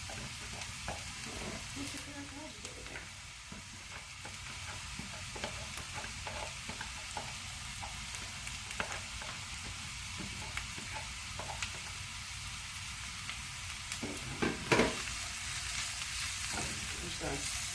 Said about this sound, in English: Just gonna saute these up just so they get a little soft. I love that sound and that smell